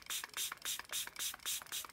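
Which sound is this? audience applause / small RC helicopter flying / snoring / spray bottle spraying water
spray bottle spraying water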